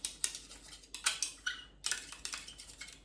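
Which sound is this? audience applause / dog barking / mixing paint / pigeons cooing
mixing paint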